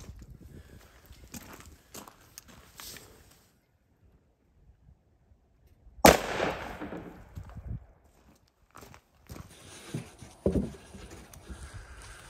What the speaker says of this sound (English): we shoot another round at it